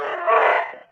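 A dog gives a single loud, drawn-out bark-howl from a played video, close and clear, fading away at the end.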